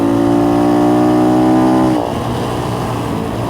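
An X-Pro Templar 250 dual sport motorcycle engine runs loud and close with a steady buzzy drone, its pitch dropping and settling into a rougher, lower idle about halfway through.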